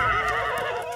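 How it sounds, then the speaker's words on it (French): Wild horse neighing in the Yakari cartoon, a single short whinny with a bright, harmonic quality, close and loud with no talk over it. "Les hommes vont capturer les chevaux sauvages."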